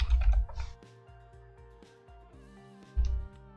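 Typing on a computer keyboard: a few quick key clicks at the start and again near the end, close and fairly clear, with an electronic music bed in between.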